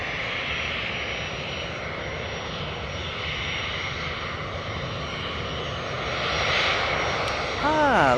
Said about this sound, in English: time to go to the 2 737s for a quick look. We're going to be getting those 2 takeoffs in the next few minutes.